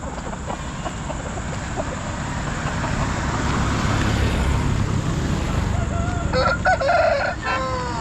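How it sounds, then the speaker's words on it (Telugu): Native country chickens at a rural poultry market in Nellore, with roosters crowing and hens clucking amid steady crowd and traffic noise, the crowing growing louder and clearer toward the end. "ఇక్కడ మళ్ళీ గోతాల్లో కూడా కోళ్ళు చాలా కోళ్ళు ఉన్నాయి"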